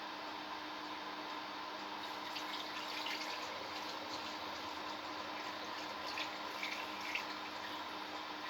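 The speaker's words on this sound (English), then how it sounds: "So now I just need to add my water." Water streams steadily from a tap into a flavouring bottle for a sugar-wash spirit, a continuous faint hissing rush with no voices over it.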